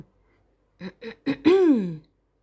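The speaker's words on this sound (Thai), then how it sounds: "มีเสียงกระแอมและเธอก็ผวา" Someone clears their throat, three short gruff bursts followed by a longer voiced ahem, close up in an otherwise quiet space.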